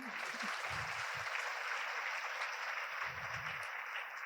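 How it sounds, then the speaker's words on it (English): An audience at a Women Shaping Our Region 2025 event claps steadily for sponsors, a dense, even wash of many hands filling the room for about four seconds, with a few low voice-like bumps underneath. "Let's give them all one strong clap."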